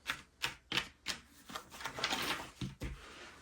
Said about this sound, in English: to cut my sheet